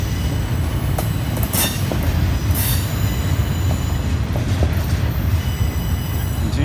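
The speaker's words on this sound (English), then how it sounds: "these are flat cars carrying continuous welded rails." A Union Pacific freight train of flat cars carrying continuous welded rail rolls steadily past, a continuous heavy rumble with metallic clicks and brief high wheel squeals.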